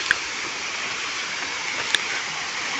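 Water pours steadily at Sanaghagara Waterfall, a constant, moderately distant rushing hiss that stays even throughout, broken by two brief sharp clicks.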